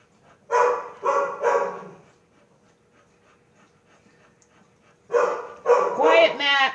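A dog barks three times in quick succession, pauses, then barks and yips again several more times, fairly close and loud in a quiet indoor room.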